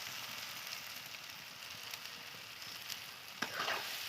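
Pieces of taro fry with turmeric, ginger, cumin and chili powder in a pan, a faint, continuous crackling sizzle with soft stirring scrapes and a slightly louder clatter near the end.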